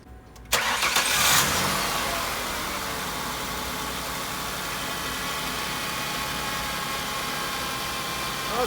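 A 1999 Ford Taurus engine cranks briefly and starts after a rack and pinion replacement, then settles into a steady, close idle with a broad whining hum.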